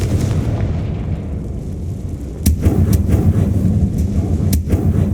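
A Confringo blast spell explodes in Hogwarts Legacy, with sharp cracking bursts and deep booms over a rumbling low roar, two strong hits standing out amid continuous heavy battle noise.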